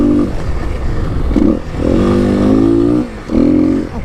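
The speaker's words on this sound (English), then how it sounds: "We got some desert riding today on the" Kawasaki KLX300 dirt bike ridden across open desert terrain, its engine droning loud and close with rising and falling revs, a brief dip in throttle before it pulls hard again.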